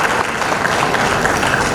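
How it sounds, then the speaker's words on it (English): Audience applause at a 2023 innovation summit, a dense, steady clatter of many hands clapping close by with no voices over it. "Please give me a round of applause."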